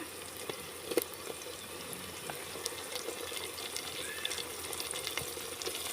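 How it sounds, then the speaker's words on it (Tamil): Tomatoes sauté in a pan for Sankara fish curry, a soft, continuous sizzle with occasional pops and light stirring clicks, fairly quiet and without talk. "தக்காளி பழம் நல்லா வதங்கி வரட்டும்"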